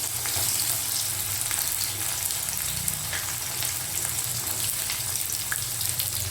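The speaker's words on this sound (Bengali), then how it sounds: "এবার পেঁয়াজ কুচিটা আমি ভালো করে তেলের মধ্যে আগে ভেজে নেব।" Chopped onions fry in oil for a mutton curry, giving a continuous close crackling sizzle with a watery hiss and occasional faint stirring clicks; nobody speaks.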